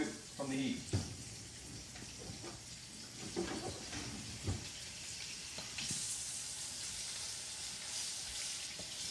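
Flank steak frying in a pan of olive oil, a steady broadband sizzle running throughout with brief clatters of the pan and utensils, while a voice talks intermittently over it.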